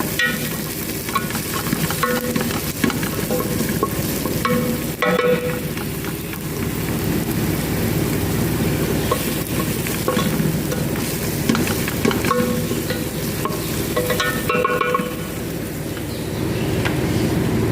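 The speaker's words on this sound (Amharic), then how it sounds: "ሽንኩርት ደግሞ እዚህ ጋር እያቁላለሁ ነው። አሁን ነጭ ሽንኩርቱን እጨምራለሁ።" Onion and garlic fry and get stirred in a pan, a continuous loud sizzle with scraping stir strokes and occasional clatter, no voices.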